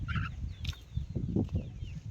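Native desi chickens cluck and gabble in low, uneven bursts nearby, with a few sharper calls above the steady murmur.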